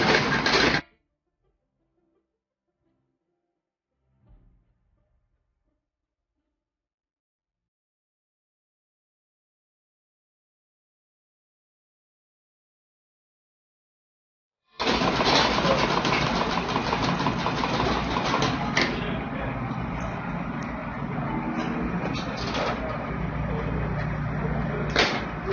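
Domestic sewing machine stitching the seam of an A-line long skirt, starting with a brief burst, then silence, then a steady continuous mechanical whir running close and loud to the end.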